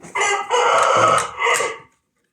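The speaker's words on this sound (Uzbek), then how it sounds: "Mana xo'rozlarimiz birma-bir ko'ringlar aka-ukalar" A single loud, close rooster crow lasting nearly two seconds, rising and breaking before falling silent.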